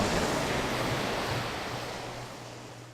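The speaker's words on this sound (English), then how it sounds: "Amidst the roiling waves of the Lotamo Sea lies the maritime city-state of Limsa," Sea waves of the Lotamo Sea rolling in a Final Fantasy XIV game intro, a steady broad wash of surf with a low hum beneath, loud and continuous, slowly fading.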